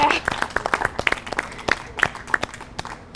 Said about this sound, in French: j'aimerais ça qu'on puisse applaudir Caroline